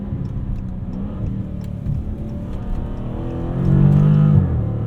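A 2019 Dodge Challenger R/T Scat Pack widebody accelerating in street mode at night, its steady mid-pitched engine drone swelling louder near the end as the 8-speed transmission works through gears.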